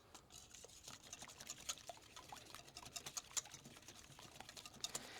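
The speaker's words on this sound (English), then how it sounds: "I'm going to whisk this nice." Eggs and cream being whisked for a custard in an onion tart filling: a quiet, steady run of light, rapid clicking strokes against a bowl, continuing evenly without talk.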